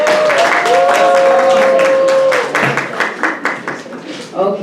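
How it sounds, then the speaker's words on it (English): Audience applauding at a student awards ceremony, a dense burst of clapping heard over a sustained tone and then a voice talking, the clapping thinning into scattered claps toward the end. "Let's give Mr. Solomon a round of applause"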